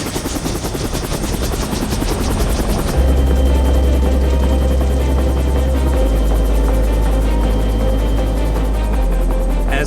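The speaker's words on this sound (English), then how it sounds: "it must survive an hour-long trip through the air, dangling from the belly of a helicopter" A helicopter carrying a rhino slung beneath it roars close by, its rotor thumping steadily and loudly throughout.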